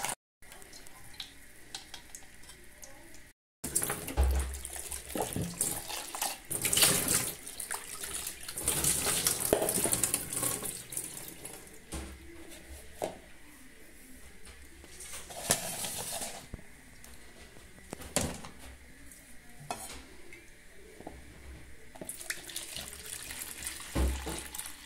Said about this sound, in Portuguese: Agora vou colocar um pouquinho de água.